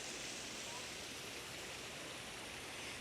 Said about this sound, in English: So this is a pondless waterfall